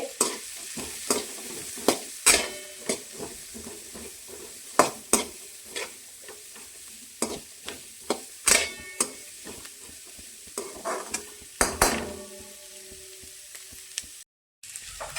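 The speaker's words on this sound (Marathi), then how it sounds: "कांदा तळून घेते आता। थोडा लाल करायचा कांदा। आता हलवून घेते।" Onion fries in oil in a pan for biryani, a low sizzle punctuated by repeated sharp scrapes and knocks of a spoon stirring against the pan at irregular intervals, close and clear with no talk.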